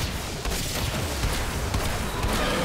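Rapid gunfire from weapons in the video game Warframe during an Eidolon hunt, a dense continuous barrage of shots and booming impacts with steady loudness throughout.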